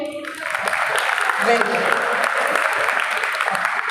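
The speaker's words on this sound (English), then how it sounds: "Please clap for him." Classmates clap for a student at a podcast competition, a lively, continuous patter of hands after a short spoken remark, sustained at even loudness to the end.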